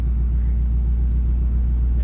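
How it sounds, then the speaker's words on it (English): A 1977 Bonneville holds a burnout with factory line lock, its rear tire spinning in transmission fluid, giving a loud, steady low engine rumble and drone that stays constant throughout. "Just spinning the tire into tranny fluid."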